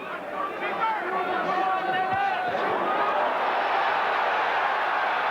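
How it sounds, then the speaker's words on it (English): A large British contingent in a boxing arena crowd chants at a heavyweight title fight, the sustained voices rising as a continuous, dense roar of massed singing that fills the space throughout. "the most exciting thing is the chanting from the Brits in the crowd"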